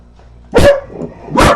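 A dog barks twice, close and loud, with the two sharp barks spaced about a second apart over a quiet indoor background.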